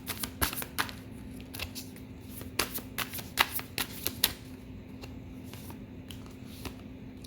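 Tarot cards being shuffled by hand, a close papery riffling and slapping in uneven bursts over a faint steady hum, with no talk.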